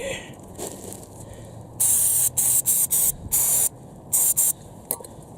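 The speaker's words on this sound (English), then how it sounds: "The carb spray to kind of clean this stuff off." Short bursts of carburetor cleaner spray hiss close by while cleaning Honda Civic brake parts, several quick blasts in a row with brief pauses between them, over a faint background rumble.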